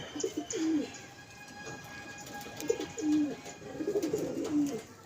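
Several pigeons coo in soft, rolling phrases that repeat through the stretch, close by at a home pigeon loft, with faint chirps and a steady hum behind them and no talking.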